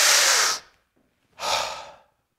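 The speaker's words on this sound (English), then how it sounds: "watch a good breath again. Again, relaxed and starting down low." Two deep, relaxed breaths taken in slow preparation for playing the euphonium, each a soft, airy rush lasting about half a second, close and clear, separated by a short silence, with no talking.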